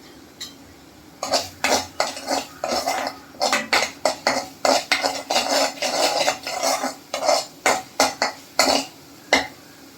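Ground masala sautéed in oil in a pan over a high flame: repeated quick scraping and clattering strokes of a spoon against metal in an irregular rhythm, close and fairly loud over a faint background sizzle, with no talking.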